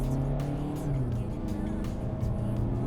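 A 2019 Seat Tarraco SUV accelerating on a straight road, a steady close engine drone heard from inside the cabin with faint rhythmic road thumps, no talk over it.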